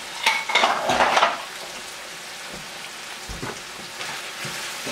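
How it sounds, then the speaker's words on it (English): Homemade sauce poured into a pan of calico beans with bacon fat, then stirred; a burst of wet pouring and utensil scraping up front, followed by quieter sporadic clinks and stirring against a low background hiss. "I'm gonna go ahead and throw our sauce that we made right in here."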